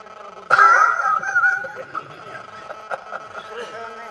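A voice imitates a dog's growl during a Marathi religious sermon, a loud, rough rumbling burst followed by fainter, uneven growly murmurs.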